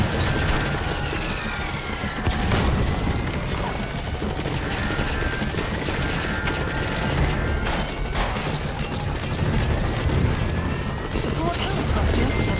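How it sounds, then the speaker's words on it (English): Steady, heavy rotor drone of a support helicopter arriving in the game Metal Gear Solid V: The Phantom Pain fills the clip, with game-style mechanical noises and faint voices layered over it. "Support helicopter has arrived."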